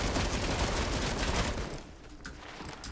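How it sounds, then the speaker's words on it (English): Sustained video game gunfire from an enemy team in a hard mode shooter, dense and loud at first, then thinning into scattered, fainter shots from a distance. "Okay, you're getting shot at."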